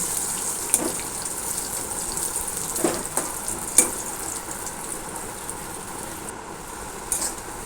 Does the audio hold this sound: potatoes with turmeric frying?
yes